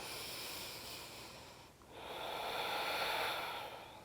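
Two long, slow breaths during a yoga side angle pose, each a soft airy nasal rush, close and quiet, separated by a brief pause, with no talking.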